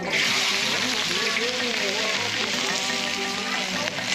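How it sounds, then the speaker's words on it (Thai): Diced onions sizzle in hot oil in a frying pan, a loud, constant crackling hiss with no pauses. "แล้วก็เจียวหอมให้หอม"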